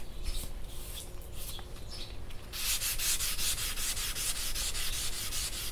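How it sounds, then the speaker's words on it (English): Steady rhythmic scrubbing of a sanding block with 400-grit paper and soapy water on a fiberglass wiper cowl, quiet strokes at first, then faster, louder back-and-forth passes with no talking. "Then we'll start wet sanding."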